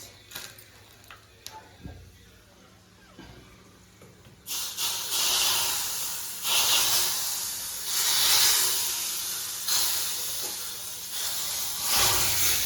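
Fenugreek, asafoetida, mustard seeds and bay leaf temper in hot ghee: a few light ticks come first, then a loud, surging hiss and sizzle sets in and carries on in waves.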